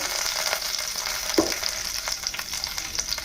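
Garlic, ginger, dried red chillies and green chillies fry in a pan for hotel-style tomato chutney, giving a loud, steady, close-up sizzle with light stirring crackles throughout.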